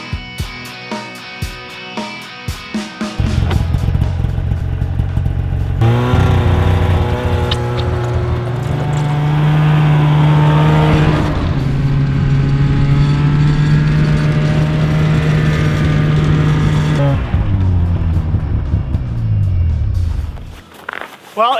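A snowmobile engine drones loud and close while towing a toboggan across a frozen lake on an ice camping trip, its pitch rising and holding steady before easing off near the end.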